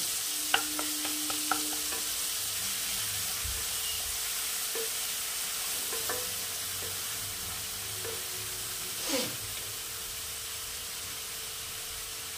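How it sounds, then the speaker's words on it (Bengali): Ground cumin and coriander paste sizzles steadily in a hot pan as a spoon stirs it, with a few scraping clicks and taps over a constant hiss. "জিরে আর ধনে বাটা দিয়ে দিলাম। ওটা একটু ভেজে নেব।"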